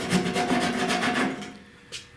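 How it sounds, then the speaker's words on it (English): Hand sanding around the lock area of a 1966 Buick Wildcat GS body, a close, steady rasping rub in repeated strokes that fades out near the end. "and sand all the way around these areas"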